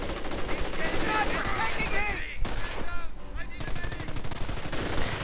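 Sustained heavy machine gun fire in a war strategy video game, dense rapid bursts over background battle noise with brief whistling sounds, continuous and loud throughout.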